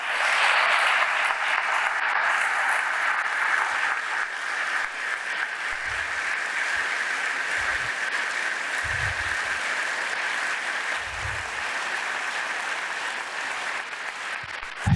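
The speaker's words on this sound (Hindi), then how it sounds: "तालियां क्यों बजाई हैं?" A congregation claps during a Hindi-Urdu church sermon, continuous steady applause from a large group filling the room, moderately loud and somewhat distant, with a few low thumps mixed in.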